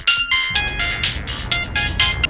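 A phone rings out during a call to a father: a bright, repeating electronic ringtone sounds in short regular bursts, close and clear with no talking.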